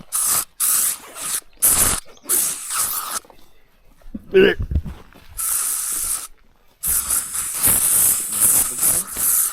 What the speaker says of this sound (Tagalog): Kailangan namin mag-spray.